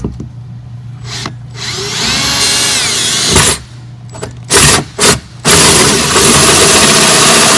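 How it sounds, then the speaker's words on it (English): A power drill bores a hole in the hull of a 1998 Carver 350 Mariner boat for a bow water sprayer, loud and close, its motor whirring in bursts that stop and restart several times. "So let's go ahead and drill this dude out."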